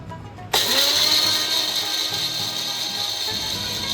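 An electric mixer grinder grinds fennel, black mustard seeds, poppy seeds and ginger together. It starts abruptly after a brief quiet moment, then holds a loud, steady, close-up whirring whine with no talking.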